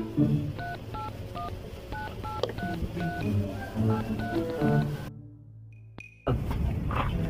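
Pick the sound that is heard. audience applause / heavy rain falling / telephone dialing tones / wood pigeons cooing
telephone dialing tones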